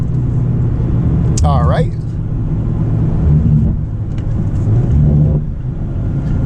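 A 2022 Mazda MX-5 Miata Touring's engine drones and rises in revs while driving on the road, a steady close rumble with a brief rising whine, heard from inside the car under a short spoken remark.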